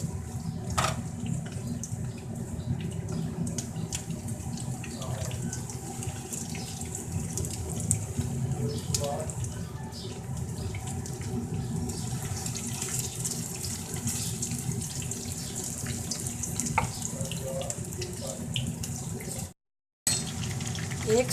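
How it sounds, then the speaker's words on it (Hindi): Aloo keema kebabs shallow frying in hot oil in a pan, a steady, dense sizzle and crackle that runs loud and continuous throughout with a brief dropout near the end. "ऑयल गर्म हो चुका है, अब मैं इसमें कबाब डालती जाती हूँ।"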